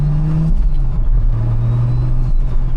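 A highly tuned Toyota Supra with a roughly 1,100 hp turbocharged engine drones loudly up close under acceleration, a deep, steady engine note that dips briefly during gear changes.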